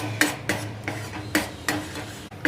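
Spoon scraping and stirring ground masala paste into oil in a pan, rhythmic strokes at roughly half-second intervals, close and fairly loud, with no voices.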